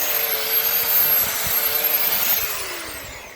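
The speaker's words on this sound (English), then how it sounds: "That chainsaw's making a funny noise." A chainsaw cutting a cordyline australis, with a leaf stuck in it, whines at high pitch with a steady engine drone, close by, gradually slowing and dropping in pitch as it winds down.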